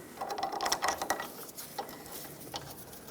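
A ratchet snugging up the bolts on an upper ball joint of a 1996-2002 Toyota 4Runner, with quick bursts of close clicking early on that thin out into sparser, quieter clicks.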